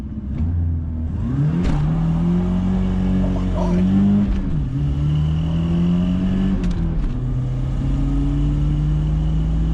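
A Turbo Coupe engine revs and accelerates hard up through the gears, loud and close, with rising and falling engine tones between shifts and a short excited exclamation over it.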